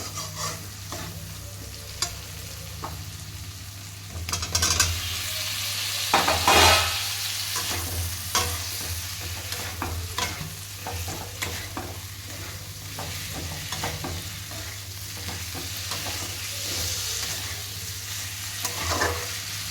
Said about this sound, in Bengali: এবার কিন্তু আমি ঢেলে দেব আলু আর কাঁচা কলা